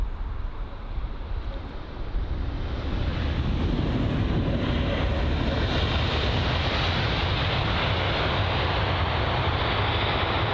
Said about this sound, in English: The Delta Airlines A330-900 or the A330neo arriving from New York JFK